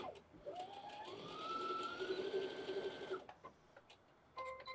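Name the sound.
sewing machine stitching a handbag seam in reverse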